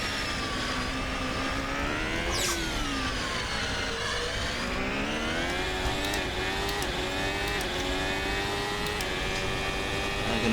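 Simulated race car engine from a Monaco Grand Prix racing video game, a high-pitched screaming note rising and falling steadily through gear changes across the lap, loud and continuous with no talk.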